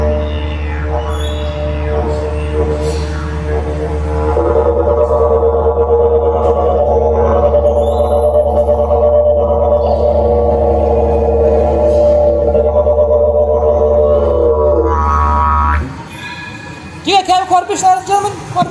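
A voice imitates a kookaburra's laughing call: a long, loud, steady droning tone gives way near the end to a short burst of choppy, cackling bursts up close.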